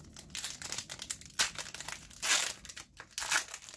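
A 2020 Panini Contenders baseball card retail pack wrapper torn open up close, loud crinkling and crackling foil in uneven bursts with a sharper rip partway through.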